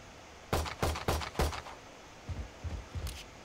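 Turret gunfire in the video game Death Agent Roulette, a quick series of sharp cracking shots at a steady pace followed by a few softer, more distant bursts.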